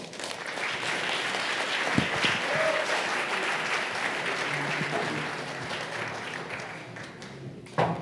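An evening startup pitch event audience gives a sustained round of applause, dense steady clapping filling the room for several seconds before tapering near the end.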